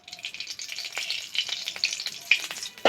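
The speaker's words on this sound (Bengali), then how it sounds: "অল্প করে একটু ফোড়ন দিচ্ছি।" Whole spices tempering in hot oil in a pan while cooking taro for a sour shol fish dish, a bright crackling sizzle with small pops and stirring rattles, close and steady.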